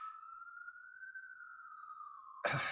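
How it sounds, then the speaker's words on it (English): Police car siren in Brooklyn, a steady wailing tone that rises and falls slowly over several seconds at moderate distance, cut off near the end by a sudden burst of broadband noise. "You can probably hear the police sirens."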